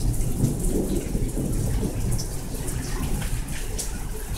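Heavy rain pours down steadily during a rainstorm, dense and close, with thunder rumbling underneath throughout.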